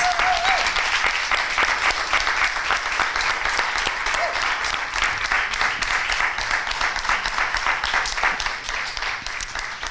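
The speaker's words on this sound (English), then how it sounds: "Beautiful round of applause." Sustained, full applause from an audience at a closing ceremony, loud and even for the whole stretch with a faint voice briefly underneath.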